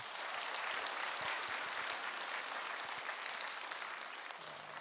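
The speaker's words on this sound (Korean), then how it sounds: "박수 한번 해주세요" A church congregation applauds during a Sunday worship service, steady dense clapping filling the room throughout, loud and continuous with no voices over it.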